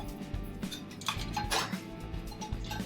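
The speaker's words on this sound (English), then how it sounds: "All the dirty dishes should be put into the dishwasher" Dirty dishes and cutlery clink and clatter as they go into a dishwasher in a back room, with repeated close knocks and scrapes at an uneven pace.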